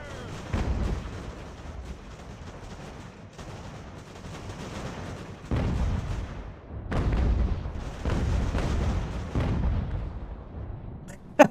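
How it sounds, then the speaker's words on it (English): Cannon volleys in Ultimate General: American Revolution, a naval battle of an American fleet against the Royal Navy, with repeated booming broadside salvos in irregular bursts and rumbling decay, loud and close, with a sharp report at the very end. "Fire the cannons!"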